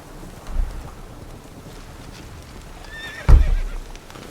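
Horse hooves and a whinny from the Witcher 3 video game, with a soft thump early and a louder burst of hoofbeats and neighing near the end over faint wind-like background.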